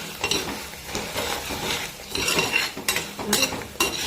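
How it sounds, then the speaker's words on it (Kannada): Green chillies frying with turmeric powder and salt for a tamarind gravy, a low sizzle under busy stirring, with the clinks and scrapes of a spoon against the pan, close up and without speech. "ಈಗ ಅರಿಶಿನ ಪುಡಿ, ಉಪ್ಪು ಇದನ್ನು ಹಾಕೋಣ. ಹಾಕ್ಬಿಟ್ಟು ಫ್ರೈ ಮಾಡೋಣ."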